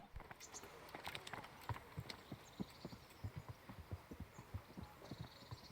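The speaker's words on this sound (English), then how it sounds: "Oh, this is my horse." A horse's hooves clip-clop steadily in the medieval game Kingdom Come Deliverance: an even, rhythmic trotting beat of soft thuds, fairly quiet against a faint background.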